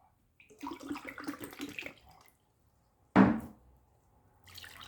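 A glass of water is poured into baghrir batter in a two-second liquid gush, followed by a sharp, close clunk that fades quickly, with soft splashing returning at the end.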